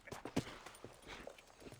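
Horse hooves clip-clop in the Red Dead Redemption video game, a few faint, uneven thuds at a walking pace under quiet background ambience.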